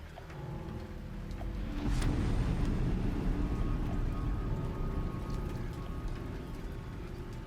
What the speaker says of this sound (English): the fact that it's now raining scares me more than the fact that there's fog